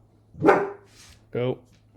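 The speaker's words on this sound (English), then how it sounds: "someone's at the door and Angel's barking." A dog barks at someone at the door, two sharp barks about a second apart, close and loud over a low steady hum with light room noise.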